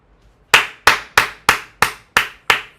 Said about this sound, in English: everybody give a clap to Gumbo